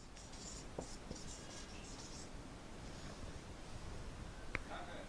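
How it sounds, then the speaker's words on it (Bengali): Pen strokes on paper while Bengali verse is copied out, faint soft scratching in short intermittent bursts against a low hiss of background noise, with no clear talk. "একটু নিচে লিখি"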